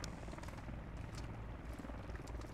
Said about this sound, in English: They have those helicopters modeled in?